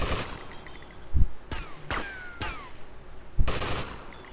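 Gunfire in GTA Vice City: several sharp, loud shots spaced irregularly, with bright ricochet-like streaks between them, set against a low background rumble and no speech.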